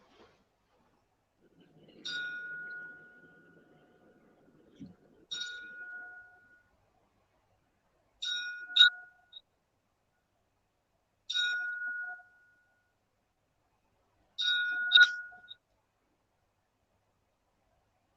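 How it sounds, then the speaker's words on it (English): Ten-bell salute tolled at a boxing event in memory of Marvin Hagler: five faint, evenly spaced metallic bell strikes ring out, each with a short decaying ring, with a murmur of distant voices near the start. "they're doing the 10 bells for. Is that for Marvin Hagler"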